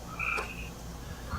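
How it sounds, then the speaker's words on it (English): Frogs call from a backyard at night with a brief high shrill cry followed by fainter croaks and hum against a constant noisy background. "I have a backyard full of screaming frogs."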